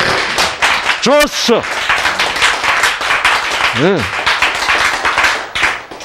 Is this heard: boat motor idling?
no